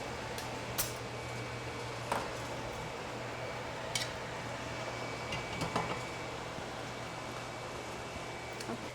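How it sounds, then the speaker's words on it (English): Nigerian food ingredients being mixed at an outdoor farmer's market, scattered light clinks and scrapes of utensils against a bowl over a steady background hum. "And then we just mix it all together."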